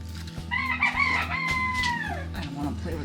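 Hen vocalising during hands-on chicken care, with a drawn-out tonal call from about half a second to two seconds and softer clucks after it, close and loud over a constant low rumble.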